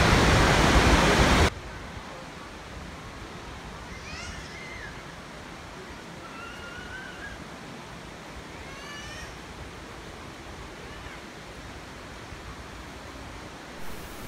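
Khlong Lan waterfall in Kamphaeng Phet, Thailand, gives a steady broadband rush of falling water throughout, after a brief loud burst at the start, with a few faint chirps above it.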